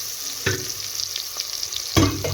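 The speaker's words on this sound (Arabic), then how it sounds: "شوحنا البصلايه، ادينا يعني تشويحه بسيطه" Chopped onion sautés in oil in a pan with a steady, bright sizzle, broken by a couple of sharp scrapes and clatters as it is stirred.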